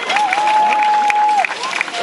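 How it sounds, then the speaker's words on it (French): A crowd applauds and cheers after a team combat bout between Les Comtois and Les Loups at Vincennes, with steady loud clapping, a long sustained whistle cutting through near the start, and a few sharp shouts. "On les applaudit bien fort, ils l'ont mérité."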